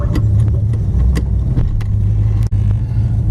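A Plymouth 318 V8 with a PTC 9.5 torque converter and Doug headers rumbles loudly and steadily as the car pulls off on an uphill run, the engine note holding firm, with a brief sharp dropout midway.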